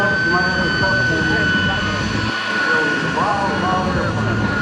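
At an air show in Camarillo, an airplane roars past with a loud, sustained engine drone that shifts in pitch as it passes, while an announcer talks over it.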